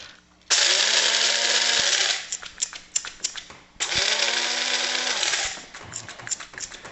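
Blade coffee grinder pulsing in two bursts of loud whirring while being shaken, each followed by rattling of beans and grounds inside the metal cup as the motor winds down.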